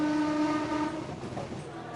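A train in India heading into Calcutta rumbles past with a sustained horn tone at the start and rolling wheel noise beneath, loud and close, fading slightly toward the end.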